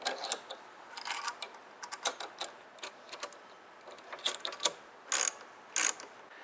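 Ratchet wrench tightening motorcycle exhaust bolts on a Honda CTX700 muffler, a run of quick dry metallic clicks in short bursts with pauses between, close and alone.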